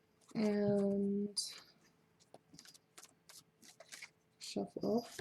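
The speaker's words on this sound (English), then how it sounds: "shuffle this one." A deck of oracle cards being shuffled by hand in a series of soft, irregular riffles and taps, with a person's voice speaking before and after the shuffling.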